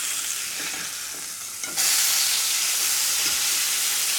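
A burger patty sizzles loudly in a hot pan, a low frying hiss that jumps abruptly to a bright, intense crackling sizzle as it is flipped, then holds steady and close with no talking.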